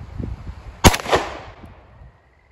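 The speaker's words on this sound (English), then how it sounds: "Are you shooting at the orange things?" A single sharp gunshot cracks at an outdoor shooting range, close and loud, with a short ringing decay afterward and quiet rustling before it.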